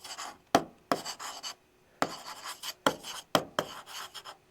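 Pen or marker writing during a chemistry class, close up, in a series of short scratchy strokes broken by brief pauses and sharp taps.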